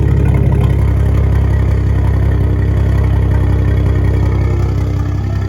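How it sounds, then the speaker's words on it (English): A Toyota A90 Supra fitted with a Megan single-exit straight-pipe exhaust idles up close, a loud, steady low rumble with a slight lope throughout and no other sounds over it. "Alright, now we set her down to idle."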